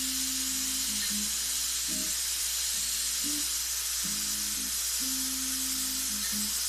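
An airbrush sprays paint at lowered air pressure with a constant, steady hiss throughout, while a low intermittent tonal hum comes and goes beneath it.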